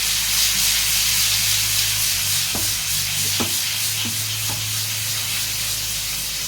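Chicken sizzling and frying steadily in a covered pan, a continuous hiss of hot oil with a few sharp clicks and taps of the lid or stirring, close and moderately loud with no talking.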